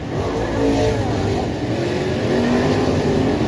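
A race car engine on a dirt track drones and revs steadily at a distance, rising and falling slightly in pitch under a constant roar of motor noise.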